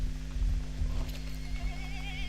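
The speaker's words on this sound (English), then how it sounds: "This horse is getting wrecked." A horse in the Rust video game neighs and whinnies while hooves clip-clop close by, loud and alone with no talk.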